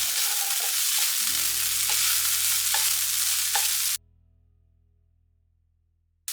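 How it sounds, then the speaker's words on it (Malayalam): Egg and colocasia stem stir fry being stirred in a pan for a Kerala-style thoran, steady close sizzling broken by a few soft utensil scrapes, cutting off abruptly partway to near silence. "ഇനി നമുക്ക് ഈ രണ്ടും കൂടെ ഒന്ന് മിക്സ് ചെയ്ത് കൊടുക്കാം."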